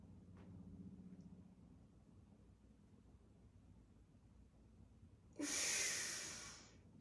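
One loud, forceful exhale during a hypopressive breathing exercise in yoga practice, breathy and close, coming after several seconds of quiet room tone.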